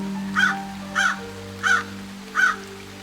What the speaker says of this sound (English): Crows were resting on perches throughout the map and were looking at me as I landed.